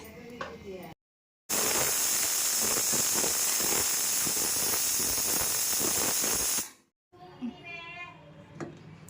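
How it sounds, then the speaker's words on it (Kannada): A pressure cooker cooking mutton biryani whistles, a loud, steady hiss of steam rushing out for several seconds, cutting off abruptly, with faint voices and clatter before and after. "ಕುಕ್ಕರ್ ಮುಚ್ಚುಳ್ಕ ಮುಚ್ಚಾನೆ ಇವಾಗ ಅದು ಎರಡು ವಿಷಲ್ ಕೂಡಲಿ"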